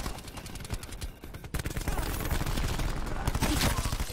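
Gunfire in the Call of Duty video game, on the Nuketown map, comes as rapid automatic bursts that grow denser and louder in the second half, while a voice talks over it.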